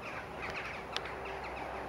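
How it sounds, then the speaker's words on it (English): Crows in an autumn garden, faint distant caws over quiet outdoor ambience, with one brief sharp click partway through. "The birds are flying away."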